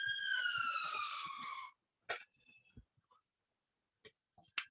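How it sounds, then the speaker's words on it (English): A siren wails in rising and falling tones for under two seconds, followed by a few scattered clicks and taps in otherwise quiet surroundings. "There's a siren that keeps going and going."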